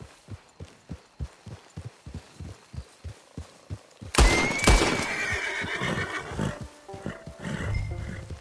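A horse in Red Dead Redemption 2 clops in a steady trotting rhythm, then gives a loud, close whinny that breaks into snorts as the hoofbeats carry on underneath.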